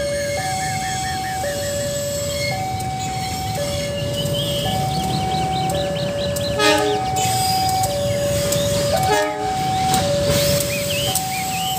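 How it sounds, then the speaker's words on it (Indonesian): A toy Thomas train rolls past with a steady rumble while a two-tone horn melody plays over and over, loud and close, with brief clanks near the end. "Keretanya sudah mau lewat"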